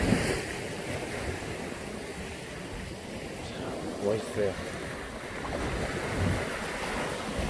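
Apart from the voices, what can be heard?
ocean waves on rocky shore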